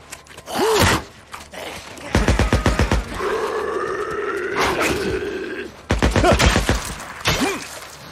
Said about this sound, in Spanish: He oído tiros